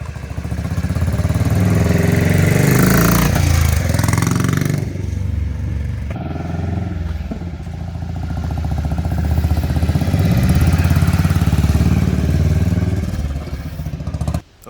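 A 1964 Matchless 350 trials motorcycle's single-cylinder thumper engine runs loud and close, revving up with a rough mechanical clatter, settling to a lumpy idle, then building again before cutting out abruptly at the end.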